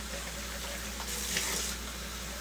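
A liter of water runs steadily into a cooking pot in a kitchen, a constant close rushing pour with no talk over it.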